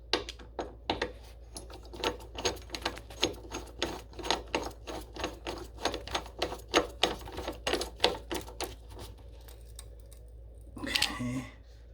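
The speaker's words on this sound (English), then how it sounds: "just need to tighten up the screws." Steady rapid ticking and clicking from screws being tightened on a Vaillant boiler, a dense run of small metallic clicks close by, ending with a louder rustle or clunk.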